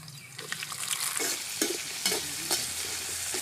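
Mustard seeds, urad dal, curry leaves, peanuts, shallots and tomato fry in oil for a village-style egg chutney, giving a steady sizzle with scattered crackles and stirring scrapes throughout.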